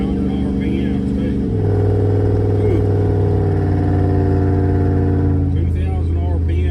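An LS-swapped Studebaker engine holds a steady 2,800 RPM, giving a loud, continuous low drone heard from inside the car while driving, with a brief shift in pitch early on.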